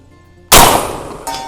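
A single loud, close gunshot fires a slug at a long-range target, followed by a short decaying echo and a fainter second report about a second later.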